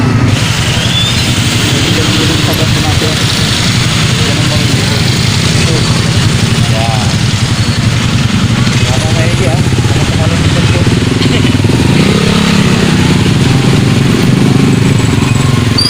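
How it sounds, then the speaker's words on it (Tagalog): Dense road traffic on the Manila to Bicol route during the Holy Week exodus, heard from a motorcycle: a steady, loud wash of idling and revving engines with motorcycle drone throughout, and voices faintly under the noise. "Ayan, traffic."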